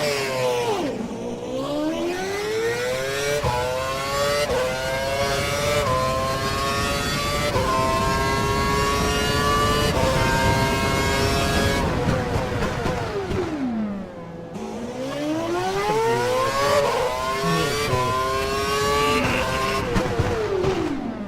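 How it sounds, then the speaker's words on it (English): An F1 race car in the video game F1 2012, its engine locked to a lean setting, screaming as it accelerates hard through rising gear sweeps, with a dip and quick downshifts partway through before it climbs again, loud and close. "Head down the track accelerating past 160 miles per hour, then brake so that you come to a complete stop in the designated area."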